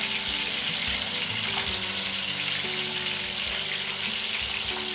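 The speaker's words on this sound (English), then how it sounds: "while you're frying the kebabs well on both the sides" Minced-meat kheema kebabs sizzle and crackle steadily in a hot pan, a continuous close frying hiss with a low hum underneath and no talking.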